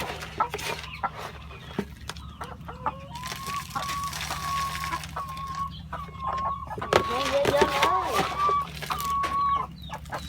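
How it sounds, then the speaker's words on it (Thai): Laying hens cluck steadily while feeding in a hot-weather coop, with several overlapping calls and a brief crow-like rise, set against a low continuous background hum. "ตอนนี้ไก่ก็กินใหญ่เลยครับ"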